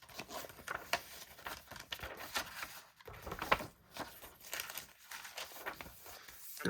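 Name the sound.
crinkly paper pages of a glue book being handled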